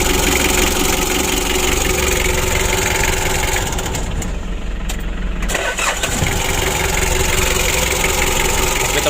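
A 2017 Mitsubishi L300 diesel engine cranks and catches, then settles into a steady, loud idle with a clattering diesel knock; a brief dip in the running noise midway, no speech.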